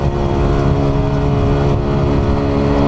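A motorcycle engine runs and revs on a hill climb, a loud, close, continuous rumbling drone with no voices over it.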